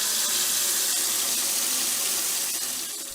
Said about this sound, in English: Peppa filled the paddling pool with very cold water. It is filling up very fast